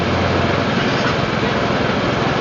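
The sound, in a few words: Honda TMX125 motorcycle engine starting and running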